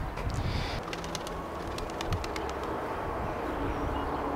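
Pigeons coo softly around a coop, low murmuring calls over steady background noise, with a few brief higher chirps mixed in and no talking.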